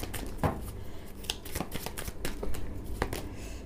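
A tarot card deck is shuffled by hand up close, a run of quick riffling flutters and soft slaps with brief pauses, no talk.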